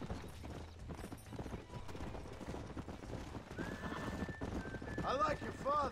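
A horse in the video game Red Dead Redemption clip-clops over ground while people talk, then gives a couple of sharp whinnying neighs near the end.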